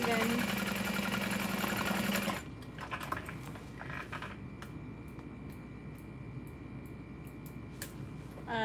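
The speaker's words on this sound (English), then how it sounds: "I'm just sewing around the top twice to make sure" A sewing machine runs steadily as it stitches around the top of a messenger bag, a continuous close whirring for about two seconds before it stops, leaving quiet handling sounds.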